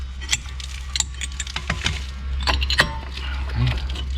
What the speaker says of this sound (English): Let's first get these brake pads out.